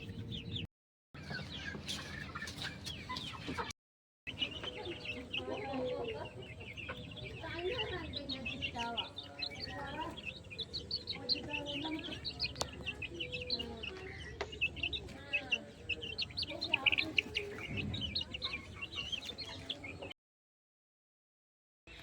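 Kadaknath chickens and chicks cluck and chirp steadily inside a cage, a busy layered flock sound running nearly the whole time with brief gaps of silence, while some voices may murmur faintly beneath.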